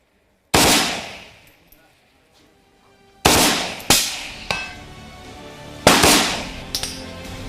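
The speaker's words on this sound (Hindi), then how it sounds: "फुल ऑटो में डाल दिया यानी एक बार फायर ट्रिगर दाबने के बाद ये लगातार फायर करेगी।" An AK-203 rifle set to full auto fires outdoors. Five sharp, loud reports come singly or in quick pairs, each ringing out and fading before the next.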